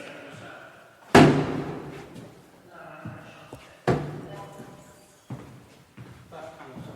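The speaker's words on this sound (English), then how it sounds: "So we just tried the door slam. It did sound like what we heard." A door slams shut hard in an old prison, one loud reverberant bang followed by another heavy slam and a couple of softer thuds, with voices talking in the echoing space.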